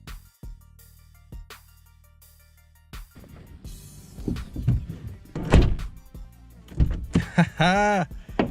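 The door of a 2008 Pontiac G8 is unlocked and locked, then opened and shut, giving a series of clicks, latch thunks and a solid closing thud close by, with no talking.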